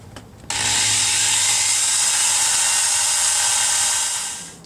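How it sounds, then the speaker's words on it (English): A power drill boring small pilot holes for a homemade car mount holster, running as one steady high-pitched whine for about four seconds close to the microphone before winding down. "now I'm just going to drill a couple little pilot holes"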